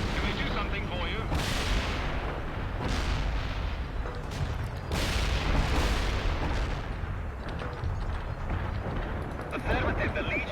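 Gunfire and artillery from the video game World in Conflict make heavy booming blasts with long rumbling decays, layered over continuous battle noise and radio-style voices.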